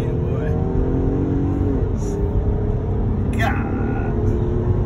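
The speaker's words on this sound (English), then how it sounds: "Let us test drive this thing, boy." A truck engine drones loudly and steadily while driving on a test drive, a continuous close rumble with a few faint higher whines over it.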